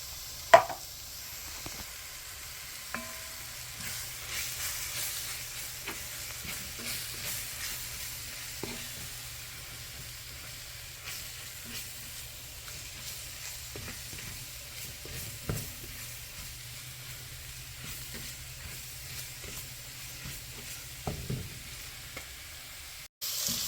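Spice mix and beef broth simmer and sizzle in a cast iron pan for keto chili, a faint steady bubbling hiss with occasional clinks and scrapes of stirring.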